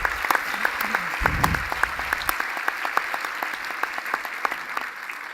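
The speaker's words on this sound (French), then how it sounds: "Je voudrais qu'on les applaudisse très fort." Audience applause at the closing address of a French professional conference, a steady patter of many hands clapping at moderate distance, with a brief low voice or thump early on, fading slightly toward the end.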